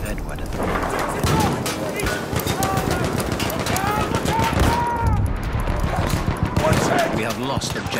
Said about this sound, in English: Machine gun, hostile.